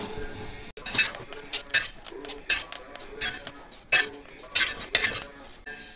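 Roasted rice mixture is scraped from a hot uruli into another vessel, a run of uneven metallic scrapes, clinks and knocks of a spoon against the pan over a faint sizzle.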